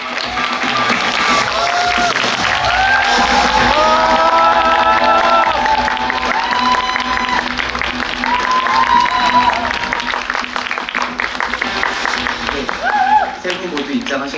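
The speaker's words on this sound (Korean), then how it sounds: "입장할 때 뜨거운 박수로 환영해 주시면 감사하겠습니다." An audience at a special film screening applauds and cheers as the director and actors walk on stage, with loud continuous clapping, excited shouts and voices running through the whole stretch.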